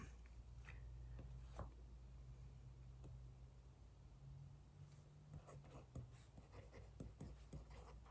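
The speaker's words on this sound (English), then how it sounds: "It's actually quicker for me to write them than it is to type the titles." Stylus strokes on an Onyx Boox Note 3 e-ink tablet, faint scratchy taps and short scribbles in irregular bursts over a steady low hum, sparse at first and busier toward the end.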